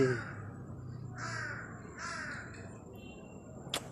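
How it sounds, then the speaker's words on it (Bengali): Crows cawing in the late afternoon as birds head back to their nests, several harsh calls in loose bursts at moderate distance, with a sharper call near the end over quiet outdoor background. "ভালো লাগে পাখিরা যখন ডাকে?"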